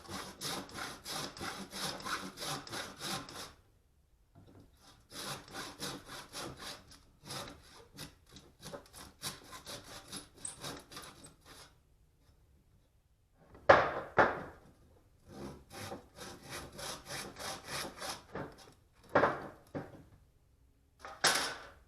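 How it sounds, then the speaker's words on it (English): A hand saw cuts through a wooden tool handle close to the metal head, heard as bursts of rhythmic back-and-forth rasping strokes separated by short pauses, close and fairly loud with no talking. "Just cut the handle off as close to the head as possible."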